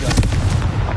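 Confringo spell blast in the Hogwarts Legacy video game, a single short booming explosion with a rumbling low end and crackling debris, loud and close.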